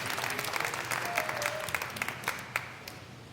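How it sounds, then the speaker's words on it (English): Outdoor audience applauding a big band concert in a park, a short burst of steady clapping at moderate distance, fading slightly toward the end. "Great big round of applause."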